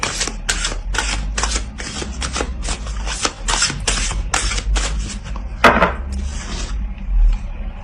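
Oracle cards shuffled by hand in a rapid, steady run of crisp riffling flicks, close and fairly loud, ending in a sharper slap and a few quieter rustles.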